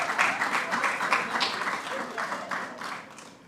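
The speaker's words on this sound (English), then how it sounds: "Give her a round of applause." A room of people at a government press briefing applauding, steady clapping that gradually fades out near the end.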